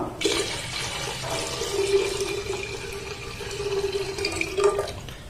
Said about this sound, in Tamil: இப்போ நார்மல் வாட்டரில் ஒரு அஞ்சு கப்பு தண்ணி சேர்க்குறோம்